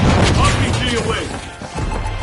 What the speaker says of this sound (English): RPG away.